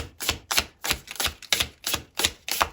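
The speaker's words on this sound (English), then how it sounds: "This deck is very slippery. I prefer to just shuffle" A slippery deck of tarot cards is shuffled in a steady rhythm of about eight crisp riffling bursts, close and fairly loud, with no talking.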